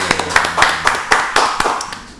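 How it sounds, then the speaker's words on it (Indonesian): Hand clapping in a steady rhythm of about eight or nine sharp, close claps spaced evenly apart, fairly loud in a small room. "tepuk tangan."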